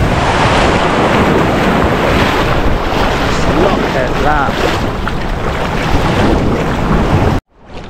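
Large ocean waves break and surge along a beach in Bali, a continuous loud wash of surf mixed with heavy wind buffeting, and a person briefly speaks before the sound cuts off abruptly at the end.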